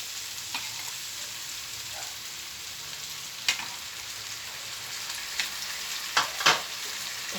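Marinated meat sizzles and fries in a pan for a simple home-cooked ulam, a soft steady crackle with a few sharper pops and stirring clatters near the end.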